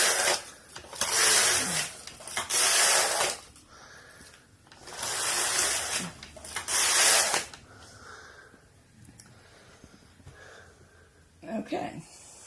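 Knitting machine carriage sliding back and forth across a few rows, with two long loud passes and a third, fainter clattering movements between, and a voice speaking in the quieter gaps.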